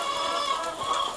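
Isa Brown laying hens on a poultry farm, a steady chorus of soft clucking and murmuring from many birds close by, continuous with no talk.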